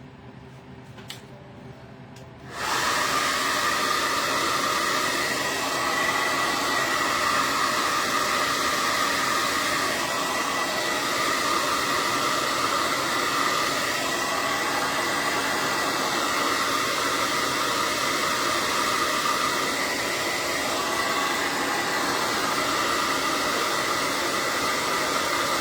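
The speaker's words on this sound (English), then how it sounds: "So I'm going to hit that with the heat hair dryer." A hair dryer switches on after a couple of seconds of quiet and blows steadily with a loud, even whoosh for the rest of the clip.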